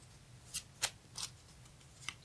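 Tarot cards handled and pulled, with a few sharp papery snaps and riffles spaced unevenly over about two seconds, close and fairly quiet against faint background hiss, no speech.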